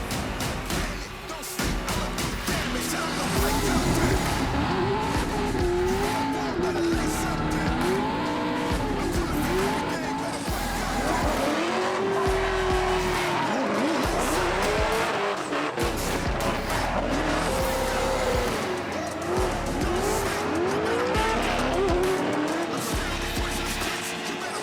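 Drift cars at LS Fest rev hard and let out long, wavering tire squeals that rise and fall over sustained engine roar. They sound loud and close, with overlapping skids continuing throughout and faint crowd voices underneath.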